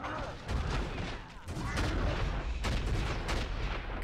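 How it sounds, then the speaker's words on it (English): Explosions in the video game Baldur's Gate: Dark Alliance II go off as dense, booming blasts that roll one into another, with a sharp burst near the start and another near the middle over a constant rumbling din. "I love it when they cluster together. Yeah, that way. Explosions are great."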